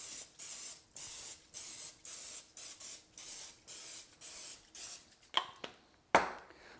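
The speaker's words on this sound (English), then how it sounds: "put a little bit of spray on my mold, just to make sure it doesn't stick" Close, rhythmic short hisses of cooking spray onto a cinnamon roll mold, about nine quick bursts in a row, followed by a couple of sharper clicks and a final spritz.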